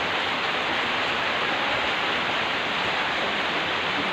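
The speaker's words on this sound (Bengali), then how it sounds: "আর সত্যি বৃষ্টি," Heavy rain pours down and soaks everything, a dense, steady, loud hiss of water filling the whole stretch with no voices.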